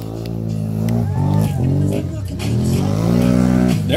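A 650 ATV engine revs hard at a logging day mud bog race, a loud close roar rising and falling through repeated throttle surges, with crowd voices and an announcer's speech underneath.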